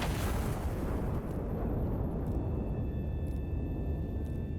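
A huge explosion in the video game Iron Nest, a broad roaring blast that fills the whole clip with a sustained rumbling wash of debris and fire, loud and continuous without distinct pops.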